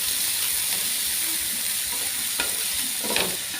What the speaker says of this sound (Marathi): आता ह्यामध्ये आपल्याला घालायची मेथी तुपावर एखाद दोन मिनटं आपल्याला परतवून घ्यायची आहे